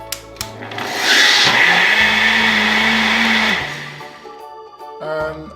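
A blender blending pineapple and mango juice, whirring loudly for about two and a half seconds with a rising then falling motor pitch, surrounded by quieter background hum and clicks.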